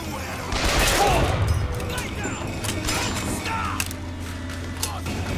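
Enemy gunfire in the video game Bioshock Infinite: a brief burst of shots near the start, then scattered crackling impacts and mechanical clatter, with game voices talking over a busy action soundscape.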